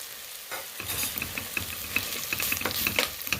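Masala sautéing on full flame in a pan for a chickpea curry sizzles steadily while a spoon stirs and scrapes in quick, uneven strokes close by, with no talking.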